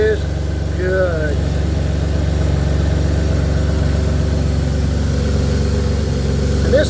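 A 2008 Pontiac G6 engine idling steadily, a low, even drone held throughout at close range, with a brief whine near the start.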